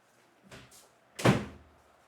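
An interior door pushed shut in a home, a soft shuffle of movement followed by a single close thud with a short rattle, heard alone without talk.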